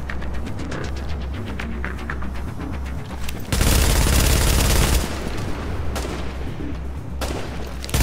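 Sniper gunfire in a first-person shooter match, rendered as a dense, loud volley of rapid shots with sharp repeated cracks through the first seconds, a heavy sustained burst mid-clip, then scattered further reports.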